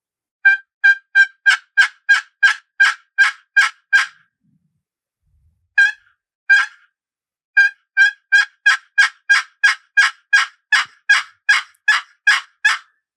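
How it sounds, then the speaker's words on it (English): A wooden box call built by West Virginia maker Nathan Taylor runs through loud, clear hen turkey yelps in rhythmic strings, a brief pause and a couple of notes near the middle, then another long, steady sequence, close and alone. "This is a box call made by West Virginia box call maker Nathan Taylor"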